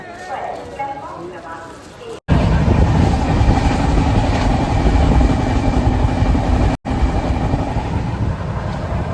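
Steady loud rumble and rattle of a moving passenger train, heard from inside, with a brief gap or two in the noise.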